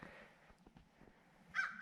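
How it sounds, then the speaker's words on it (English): Crows caw in snowy, icy winter weather during an ice and snow storm, a few calls spread across a quiet outdoor background, one louder call near the end. "Birds are trying to find something to eat."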